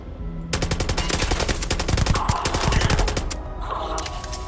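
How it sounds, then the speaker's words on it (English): A suppressed gun in the Starfield video game fires rapid automatic bursts, a dense stream of loud, close, crisp shots with a brief pause before a final shorter volley. "That's what the gun sounds like suppressed?"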